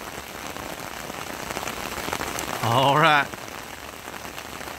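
Steady rain falls at a river boat ramp on the New River, a dense, even patter throughout, with a brief spoken word near the middle.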